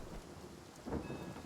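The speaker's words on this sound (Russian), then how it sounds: "Ты, по-моему, еще и дождь вызвал." Rain and a rumble of thunder conjured by a spell in the video game Divinity: Original Sin, a short, quiet burst with a low swell near the end over a steady wash of rain.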